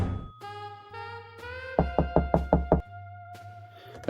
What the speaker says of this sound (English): I headed to the 16th floor and knocked on the door of the apartment the ransom note was left in.